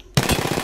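An automatic weapon opens fire in Apex Legends, a sharp onset followed by a quick, steady stream of close, loud shots.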